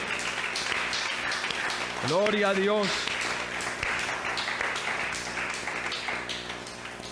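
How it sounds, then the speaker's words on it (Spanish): A church congregation applauds during a sermon, the clapping steady and full throughout, while voices call out praise and one raised, sing-song voice rises briefly above the crowd. "Démosle un aplauso al Señor Jesús."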